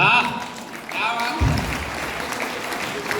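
A crowd at a Hindi poetry gathering in a school breaks into clapping that swells and continues under a voice, a moderately loud spread of many hands throughout.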